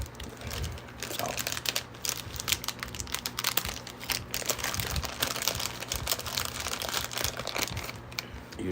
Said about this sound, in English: Time to take out a cough drop.